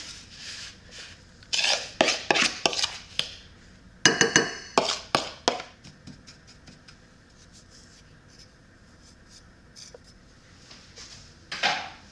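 Cheesecake mixture is scraped out of a bowl into a pie pan, with bursts of close metallic scraping and clanking from a utensil against the rim, separated by quiet stretches and a last short scrape.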